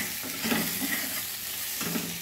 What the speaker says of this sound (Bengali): এবারে আমি পরিমাণ মতো লবণ হলুদ দিয়ে ভালোভাবে পটলগুলো আমি ভেজে নিই।